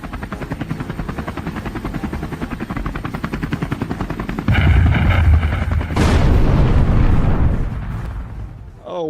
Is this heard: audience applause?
no